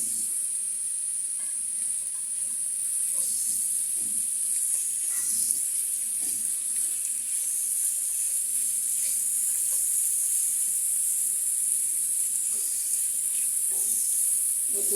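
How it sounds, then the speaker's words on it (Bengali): Garlic and onion fry in a pan for a garlic bhorta, giving off a steady bright sizzle and hiss that holds evenly throughout, with faint soft knocks beneath and no talking. "এই 2টা রসুন আর পেঁয়াজটা ভালো মতো ভেজে আবার আপনাদের সামনে আসছি।"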